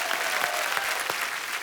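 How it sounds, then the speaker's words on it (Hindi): Loud applause from a TV comedy show studio audience, a dense, continuous wash of clapping that holds steady for a brief moment with no talking. "जोरदार तालियां।"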